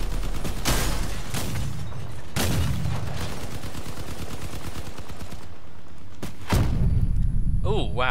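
Cannon fire in the vehicle-combat game Crossout: several sharp, heavy shots crack out over a constant engine-like drone, with a final loud hit near the end, while a player talks over the action.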